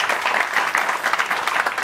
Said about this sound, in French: Ça s'applaudit les frères, hein?